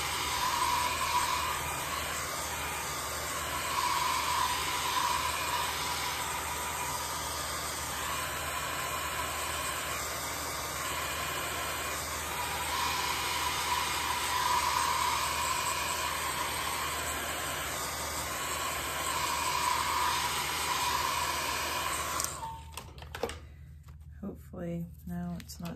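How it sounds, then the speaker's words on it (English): A hair dryer blows with a steady, loud whooshing roar for a long stretch, drying an art journal page, a voice talking over it, before it cuts off near the end. "I'm gonna hit this with my hairdryer quickly."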